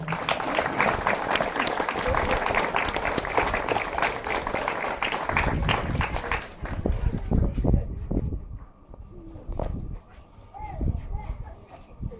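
Small-town audience applauding and congratulating Bailey, a dense burst of clapping that gradually thins into scattered claps with some voices mixed in.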